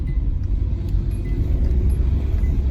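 Honda Civic with a newly replaced clutch driving along, heard as a steady, loud low engine and road rumble from inside the car with no talking.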